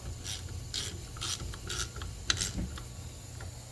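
Bolts on trailer brakes are snugged up with a ratchet wrench, producing a quick series of close, crisp clicking bursts over a low background hum.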